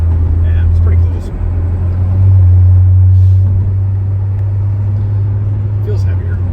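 A 750 rwhp Corvette C7 Z06 with a BTR stage 2 LT4 camshaft and DSX flex auxiliary pump makes a deep, steady, loud rumble heard from inside the car. People talk over the drone.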